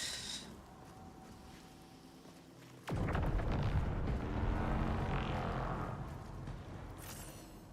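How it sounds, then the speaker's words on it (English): Distant gunfire in the video game Marathon, a sudden loud boom about three seconds in followed by a sustained rumbling burst that fades slowly, preceded by quieter ambience. "Actually, I think I hear gunfire from a distance."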